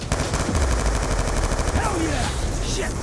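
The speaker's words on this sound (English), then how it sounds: "Turret's got the area locked down." Sustained automatic turret fire in the Black Ops 2 campaign, a loud continuous rattle of rapid gunshots with whistling sweeps near the end.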